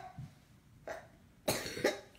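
A man coughs several times, with a soft cough first, then a louder pair of harsh, close coughs near the end, and no talking.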